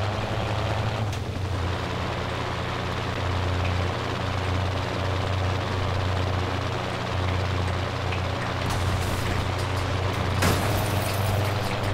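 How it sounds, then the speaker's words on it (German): A helicopter in the Watch Dogs video game drones steadily overhead, its rotor thrum constant and fairly loud throughout, with scattered sharp clatters and bursts of noise near the end. "Von dem Helikopter sind wir ja langsam außer Sicht."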